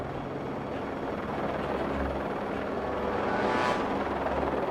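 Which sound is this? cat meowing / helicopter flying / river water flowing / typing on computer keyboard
helicopter flying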